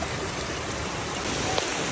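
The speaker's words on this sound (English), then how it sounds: "it's raining cats and dogs right now" Heavy rain pours steadily in a Thailand rainforest, a dense, even hiss with no pauses, close and fairly loud throughout.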